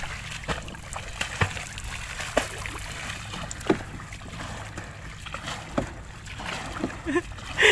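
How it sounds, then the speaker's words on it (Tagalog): Water splashes and slaps again and again as a tibog net is worked on Laguna Lake, with irregular bursts of splashing over a background wash and a voice talking at times. "Grabe mga bulabog. Talagang magugulat yung mga isda eh"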